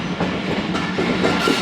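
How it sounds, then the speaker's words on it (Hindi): A Safari passenger train with five coaches rumbles steadily at a station. The rolling noise is loud and continuous, with faint clickety-clack and no voices. "5 कोचेस के साथ है सफारी ट्रेन"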